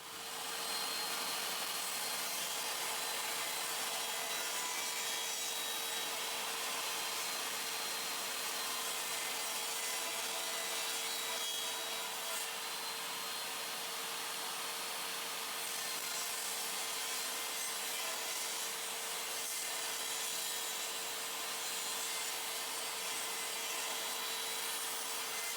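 Saw cutting a dado in wood for a shoe and coat rack, a loud, continuous, even whine with a steady tone running throughout, close and uninterrupted, with no talking.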